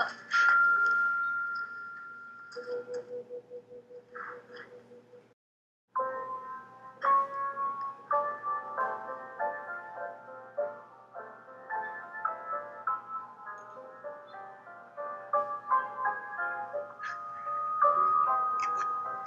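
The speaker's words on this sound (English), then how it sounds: "now it's time for Pat Riley to play the piano" Bright, tinkly keyboard notes play a simple melody alone, with a short pause early on before the tune continues at a moderate volume.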